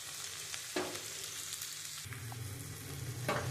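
Okra fries in a pan with turmeric and salt, a close, steady sizzle with a few sharper spits and crackles as spices hit the hot oil; no one speaks.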